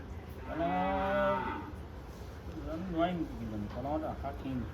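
A cow gives a long, loud moo with strong harmonics, followed by more lowing and background voices nearby.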